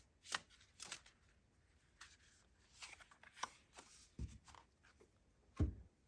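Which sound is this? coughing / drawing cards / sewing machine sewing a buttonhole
drawing cards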